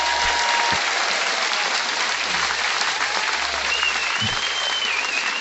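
An outdoor audience under trees and blue awnings at Adelaide Writers' Week applauds a reading, steady dense clapping sustained throughout, loud and close with no speech over it.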